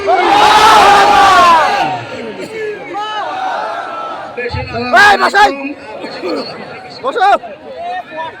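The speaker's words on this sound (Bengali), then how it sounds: "একবার জোরে বলি নারে তাকবীর" A large rally crowd roars the takbir slogan in unison, a loud sustained shout lasting about two seconds, followed by scattered voices, chatter and shouts from the gathering.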